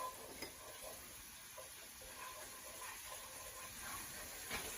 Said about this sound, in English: we're going to continue to stir that and get those bits off the pan